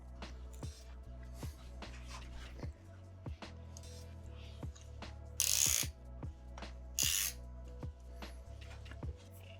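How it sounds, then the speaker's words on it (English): Suntour ratchet shifters on a 1984 Raleigh Weekender bicycle give a run of sharp, close mechanical clicks at uneven intervals, with two louder bursts of rasping noise partway through and no talking. "Suntool ratchet shifters. Really good shifters, some of my favorite shifters."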